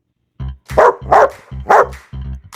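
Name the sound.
dog barking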